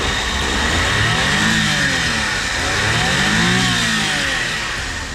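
A Japanese DA64W mini van engine revs up twice, climbing and settling back each time, loud and close, with a steady engine drone in between and no talk.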